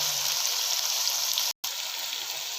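Chicken pieces fry in a pan for pulao, giving a loud, steady hiss and crackle that runs throughout with one brief cut to silence partway through.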